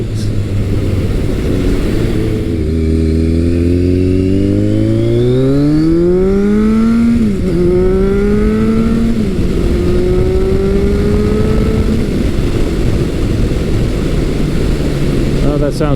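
A Kawasaki ZRX1200R motorcycle engine revs hard while being ridden. It sounds loud and close, its pitch climbing steadily, dipping at a gear change, then rising again before settling to a lower drone.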